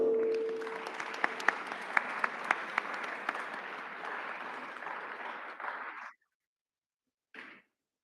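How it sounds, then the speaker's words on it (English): An audience claps at a youth parliament closing ceremony, steady applause with a few sharp louder claps that cuts off abruptly after about six seconds, followed by silence and a brief final burst. "Let's have a round of applause."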